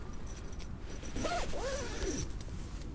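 A zip on the inner of a Hilleberg four-season one-man winter tent is drawn open in a couple of quick rasping pulls, close and clear over a low steady background hiss.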